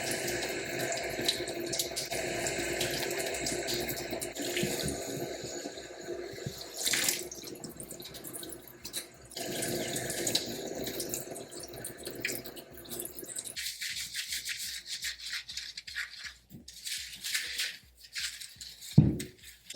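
Water runs steadily from a tap while hair is washed in a protective style, a loud continuous splashing stream with some drips, thinning out toward the end.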